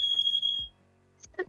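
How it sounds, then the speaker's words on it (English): A smoke-detector fire alarm chirps with a steady high-pitched tone that cuts off partway through, followed by a couple of brief clicks and a short burst of noise at the end. "my fire alarm is going on."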